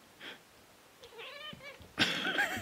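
On a film set, a female cat gives a short faint mew, then a wavering meow, then a loud, strained, drawn-out yowl near the end, with no one talking.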